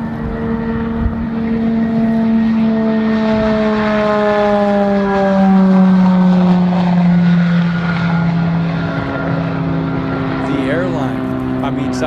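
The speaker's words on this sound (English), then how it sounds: "a 9-passenger electric private plane that just completed its first successful test flight" A nine-passenger Eviation electric private plane on a test flight: a loud, steady propeller whine with harmonics that slowly fall in pitch as the aircraft passes, lasting throughout.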